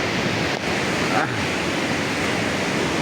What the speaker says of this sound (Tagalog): malakas ang agos ng tubig eh